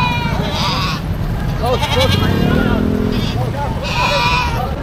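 Goats bleat repeatedly at a predawn livestock market in the Philippines. The loud, wavering calls sit close against constant crowd chatter and engine rumble.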